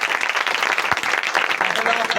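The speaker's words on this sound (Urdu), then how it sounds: "ذرا تالی لگاؤ" A church congregation clapping together during a Pentecostal New Year sermon, dense steady applause close by and fairly loud, with voices mixed in beneath the clapping.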